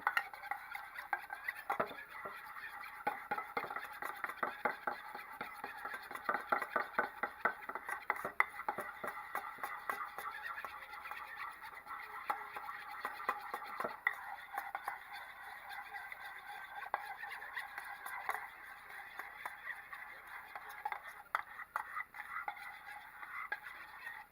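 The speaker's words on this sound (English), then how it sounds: "Take a spoon, mix all that up." A spoon stirs crema ingredients in a bowl for tortilla chicken, producing quiet, rapid clinks and scrapes in a steady rhythm that continue close but faint throughout.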